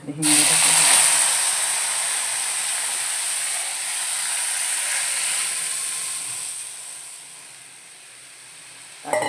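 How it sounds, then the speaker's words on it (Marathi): Tempering (phodni) spices for kadhi crackle and hiss in hot oil, a loud, close, steady sizzle that eases off toward the end and then flares briefly. "आता मी कडी पण फोडणी घातलेली आहे बघा"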